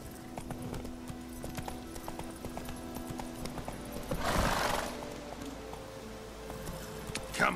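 Roach the horse gallops in The Witcher 3 with rapid, rhythmic clip-clop hoofbeats throughout. A loud neigh rises near the middle, and steady tones hum underneath.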